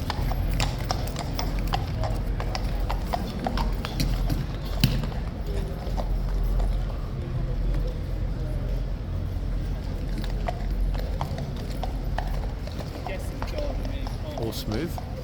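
Hooves of a King's Guard horse clip-clop steadily on pavement amid a busy tourist crowd, with constant chatter and street noise layered over the irregular hoof strikes.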